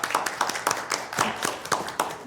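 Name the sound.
library board meeting applause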